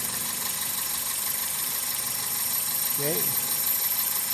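A 2000 Toyota Celica GTS engine runs at a high idle with a steady, even hum close by. A brief spoken word sits over it.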